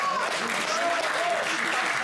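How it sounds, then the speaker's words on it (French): Audience applause during a French political talk show, a dense steady patter of clapping from a crowd, with voices audible faintly through it. "vous applaudissez absolument tout ce qu'on dit"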